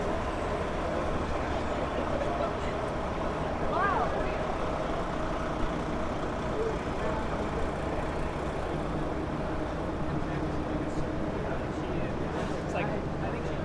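Continuous city traffic rumbles on 34th Street in Midtown Manhattan near the Queens Midtown Tunnel, a dense low roar of trucks, buses and cars with a faint brake squeal, while a voice talks over it.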